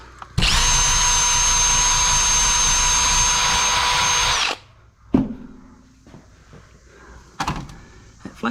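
A Sefaspe MIG 205 welder lays a bead with spatter, a loud steady crackling buzz with a faint whine that runs about four seconds and then cuts off, followed by a few scattered metallic knocks.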